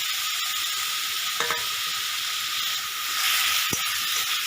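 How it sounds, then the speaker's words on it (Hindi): Chopped tomatoes fry in a pan for a dhaba-style fish curry, giving a steady close sizzle with a few brief stirring scrapes and no talk. "ये काटिकी रखी टमाटो को पकेदेवा।"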